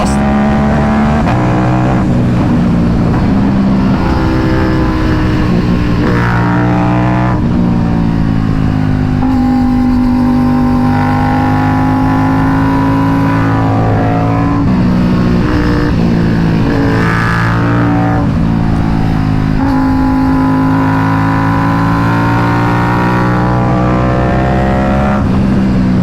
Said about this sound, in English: I don't know if you can hear that, man. The flames throwing out of the exhaust.